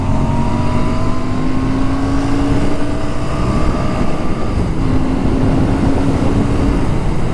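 A Royal Enfield Bear 650 motorcycle engine revving hard toward redline, a loud, close, continuous roar whose pitch climbs steadily, dips briefly, then rises again and holds.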